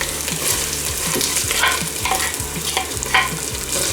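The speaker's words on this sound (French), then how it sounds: "Donc on va faire fondre un petit peu les oignons." Onions frying with ginger and garlic in a pan for an Indian-style pork curry: steady close sizzle with repeated spoon stirs and scrapes in a regular rhythm, no talk.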